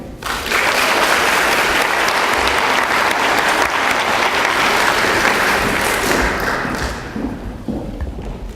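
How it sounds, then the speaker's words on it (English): A crowd applauds loudly, a dense steady clatter of clapping that fades slightly toward the end. "And a round of applause for Amy."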